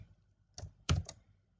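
Three quick, quiet clicks of keys being pressed on a computer keyboard while entering a spreadsheet formula, close by in a silent room.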